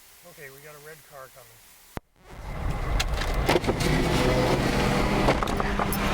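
After a brief stretch of talk and a sharp click, a car approaches on a narrow forest road in the Oregon Coastal Mountains. The engine and tyre rumble grow into a steady, fairly loud rush that lasts to the end.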